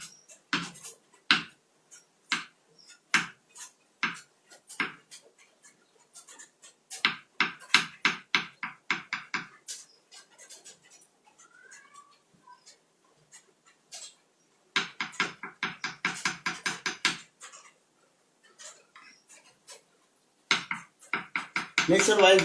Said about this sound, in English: I'm slicing the mushroom.